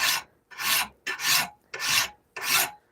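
A hand file rasps across a hand-forged Bowie knife blade in five steady strokes, each a close, gritty scrape with short pauses between.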